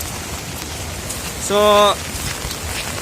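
Rain falls in the rainy season, heard from under an umbrella as a steady, moderately loud patter. A brief spoken sound cuts in partway through.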